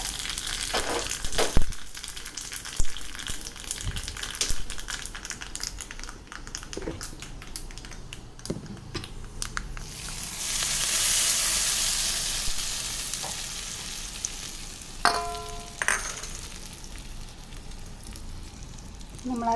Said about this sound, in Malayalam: കടുക് പൊട്ടുമ്പോഴേക്കും നമുക്ക് മുളക് അതിലേക്കിട്ടിട്ട്